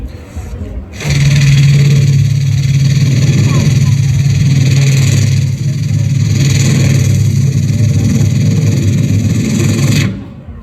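A mimicry artist's voice imitating an airplane and then a helicopter flying overhead, a loud, steady droning hum that lasts about nine seconds with slight pulsing, then stops abruptly.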